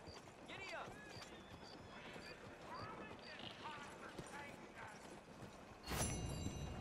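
Horse hooves clip-clop at a steady gallop in Red Dead Redemption 2, heard under a man's speech and soft game ambience. A louder burst of noise comes near the end.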